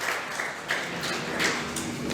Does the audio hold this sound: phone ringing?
no